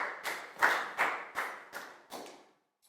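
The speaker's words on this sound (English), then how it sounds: "Big round of applause for Pangpon too" A small group of schoolchildren clapping for a classmate in a Year 4 science lesson, about seven sharp, evenly spaced claps in unison that fade over two and a half seconds.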